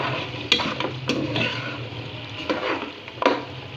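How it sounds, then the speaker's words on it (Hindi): Beef and onions frying for yakhni pulao, with a soft steady sizzle broken by a few clinks and stirring scrapes of a utensil against the pan, close and moderately quiet with no talk. "अब जो हमारा गोश्त है, जिसकी हमने यखनी बनाई थी, उसको भी हम प्याज के साथ फ्राई कर लेंगे।"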